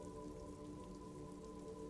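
Steady rain falling in the video game Disco Elysium, a soft continuous patter with a faint sustained tonal hum underneath, quiet and unbroken, no voices.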